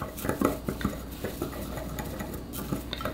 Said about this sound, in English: So now I'm gonna take my little whisk and mix this all up nice and good.